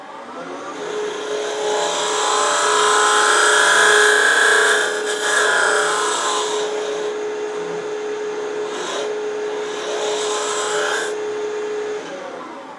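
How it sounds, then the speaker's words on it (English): A negative rake scraper works a ripple out of a wooden box on a lathe, giving a loud, steady whirring hiss with a constant hum under it and a few brief breaks in the cut near the end. "It might be easier for me to just take that out with this scraper, negative rake scraper I got here."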